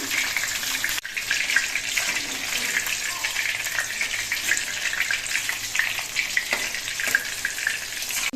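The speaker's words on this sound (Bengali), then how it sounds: "তাহলে করে মোচাগুলো আস্তে আস্তে ভাজা হবে" Pieces of banana flower fry in hot oil in a pan, giving a continuous close crackling sizzle with small bursts and shifts throughout.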